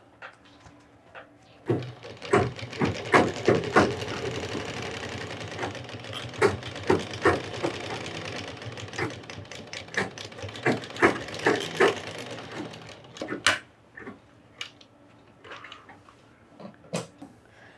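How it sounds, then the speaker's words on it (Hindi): Sewing machine stitching the side seams of a box-pleated skirt through four layers, running in bursts with a rapid mechanical clatter and sharp clicks between runs, close and fairly loud. "चारों का एक साथ पकड़ के हम साइड सिलाई कर लेते हैं"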